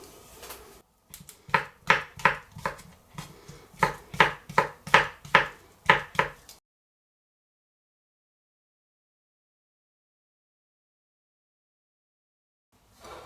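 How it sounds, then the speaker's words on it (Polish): Fresh mushrooms being finely chopped with a knife on a board, a quick run of about fifteen crisp, close knife strikes in an uneven rhythm, then silence. "Świeże grzyby drobno pokroję"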